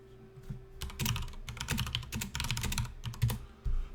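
Rapid computer keyboard typing with a few mouse clicks, close and fairly quiet, in irregular bursts over about four seconds with no talking.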